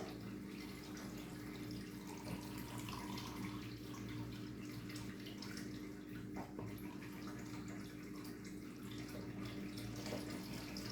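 Water runs into a pot for cooking, a faint, steady splashing flow that lasts throughout without a break.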